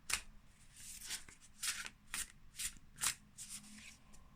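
Tarot cards being shuffled and pulled from the deck, giving a run of crisp, papery riffles and flicks in irregular bursts, close and moderately quiet with no talking.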